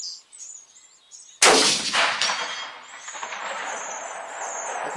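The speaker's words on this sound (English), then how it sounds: "Now we're going to be firing same powder charge with a Hornady case." A single loud, close 30-06 rifle shot, fired from a Hornady case, cracks sharply and then echoes away over birdsong outdoors.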